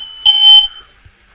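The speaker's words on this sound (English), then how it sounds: "that was a fire alarm" A fire alarm in World of Warcraft gives one short, loud, shrill electronic tone of about a third of a second, heard alone and followed by quiet.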